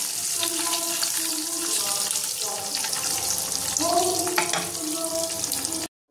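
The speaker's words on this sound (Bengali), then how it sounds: "এবার এটা আমি একটু হালকা লাল করে ভেজে নেবো, বেশি ভাজবো না, হালকা লাল করে ভাজবো" Eggs fry lightly in oil in a home kitchen, a soft steady sizzle with faint scraping and stirring. It runs continuously at moderate volume, with running tap water mixed in.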